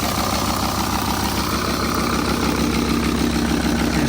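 A Volvo S TDI diesel engine idles after starting, having sat off road for ten years, with a steady loud rhythmic low chug and faint high whine throughout, no speech.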